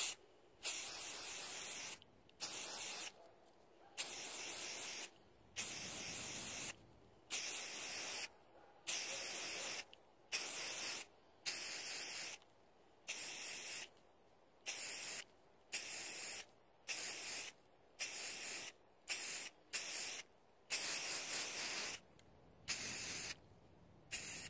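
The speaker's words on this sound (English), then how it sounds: "I'm holding the spray can about 12 to 14 inches away" An aerosol spray paint can used to coat geode tumbler work, letting out about twenty short hissing bursts in a steady on-off rhythm, each lasting roughly a second, close and fairly quiet.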